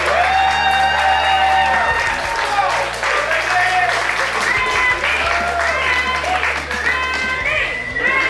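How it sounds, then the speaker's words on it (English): Crowd at an outdoor barbecue cook-off challenge applauding and cheering, a steady loud wash of clapping with voices and whoops mixed in throughout, amid ongoing chatter. "How about a round of applause for these guys?"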